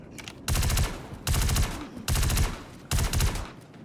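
Four loud bursts of rapid automatic gunfire from a gun in the video game Star Citizen, each volley lasting under a second with short gaps between, sharp and close.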